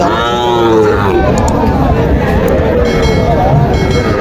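Sahiwal cross heifer calves low and moo at a busy cattle market, their drawn-out calls rising over a steady crowd hubbub with voices throughout.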